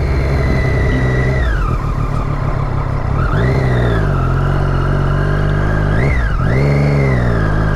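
Triumph Daytona 675R sport motorcycle under hard braking with ABS intervening, its loud close engine note dropping and rising repeatedly as revs fall and pick up again, with no talk over it.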